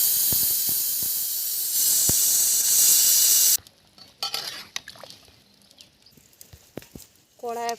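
Steam hisses loudly and steadily out of a pressure cooker for about three and a half seconds, then cuts off, leaving soft clinks and kitchen handling noises, with a few brief higher tones near the end.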